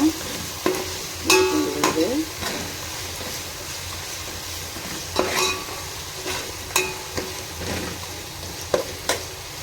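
Ingredients for tomato rice sautéing in a pan, a steady low sizzle broken by repeated scraping strokes of a spoon stirring against the metal, close and fairly loud, with no talking.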